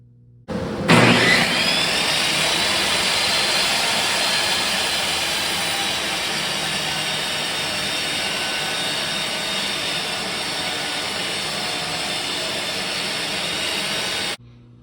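A table saw switches on together with a 4-inch dust collection system, surging into a loud, steady roaring whoosh with a high whine that holds for about thirteen seconds, then cuts off abruptly; no one speaks.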